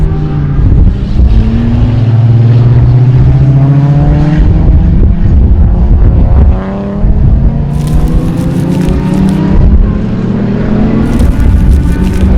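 A 1956 Austin A30 race car fitted with a Holden six-cylinder engine runs loudly and steadily, its engine note rising and falling through revs with no talk over it.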